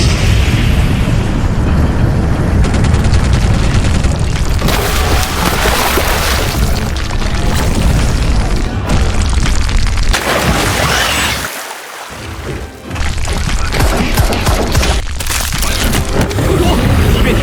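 Gunfire and explosions in an anime battle defending a doomsday survival fortress, a dense, continuous roar of booms and bursts with one brief dip before the barrage resumes.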